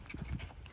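A mare's hooves clip-clop on the ground near a horse farm in Haridwar, giving a few soft, uneven thuds over quiet background noise.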